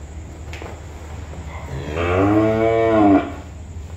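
A cow moos once at a cattle farm, a long, loud, close bellow lasting about a second over low background noise, with a faint knock just before.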